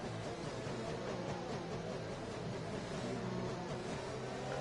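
Race car engine at Interlagos in a racing game, a steady dense roar as the car accelerates, with a faint rising pitch, continuous and evenly loud throughout.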